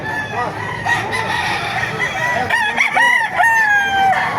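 Several roosters at a chicken market in Baliuag, Bulacan crow over one another, loud and close, their drawn-out calls overlapping amid clucking and background crowd noise.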